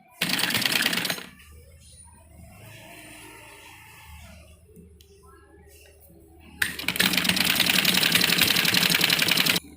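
A sewing machine stitches a strip of a printed-design suit in two fast, rattling runs, the first brief and the second longer. Between the runs there is a quieter pause with soft handling noise.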